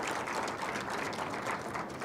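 An audience at the valedictory function of the CICTAB international conference applauds the Ministry of Cooperation, a dense, steady patter of many hands clapping, fairly soft and distant, lasting about two seconds with no voices over it.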